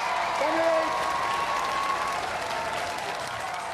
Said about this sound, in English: Ladies and gentlemen, Plunderbird 2. Give them a round of applause.